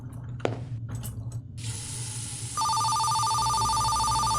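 Water runs from a washroom tap during handwashing, a steady spray-like hiss that starts partway through, soon joined by a loud, repeating electronic phone ring.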